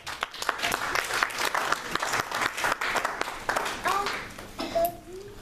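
A congregation at a Christian church service applauds for Jesus with sustained, dense clapping and scattered cheers, loud and close, and the crowd noise thins out near the end.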